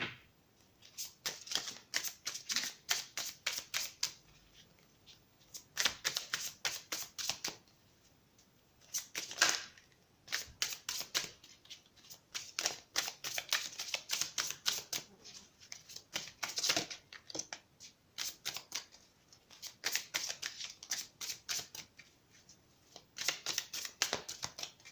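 Oracle cards are shuffled for a tarot reading, heard as close, crisp bursts of rapid clicking and riffling that repeat in clusters, with short pauses between them, over about twenty-five seconds.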